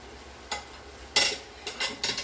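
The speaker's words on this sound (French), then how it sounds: "Voilà, on mélange le tout." Spoon strokes scrape through a thick fideua noodle mixture with tomato paste in a pan, a few short close bursts of stirring followed by quicker scrapes.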